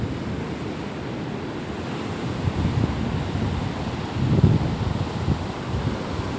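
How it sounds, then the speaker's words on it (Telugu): Sea waves roll and break on the beach at Addaripeta, a steady broad roar that swells briefly midway, with wind buffeting the microphone. "సముద్రం అలలు చూడండి ఎంత సౌండ్ అవుతున్నాయో."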